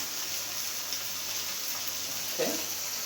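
Tomatoes hitting onions in a pan for a Parsi dish give a steady, even sizzle of frying throughout, with a brief louder stir or splash near the end; no one speaks.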